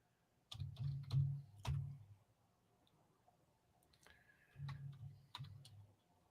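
Typing on a computer keyboard during a retro BASIC session on a MiSTer FPGA setup: a quick burst of several sharp clacks, a pause, then another short run of keystrokes, close and fairly quiet.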